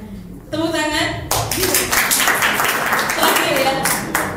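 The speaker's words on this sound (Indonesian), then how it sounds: "Tepuk tangan." A group of people at a church congregational song-leader training clap their hands together, a burst of applause breaking out amid talking and voices in a room.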